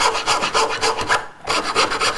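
A rasp or file rubs back and forth over a felt-covered wooden piano hammer head, shaping it to a point; steady rhythmic strokes close up, about a dozen passes with a brief pause midway, with no voices.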